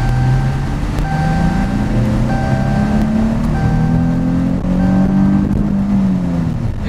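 A friend's new car accelerates, its engine note climbing smoothly in pitch over several seconds, loud and close from inside the cabin with steady road roar underneath.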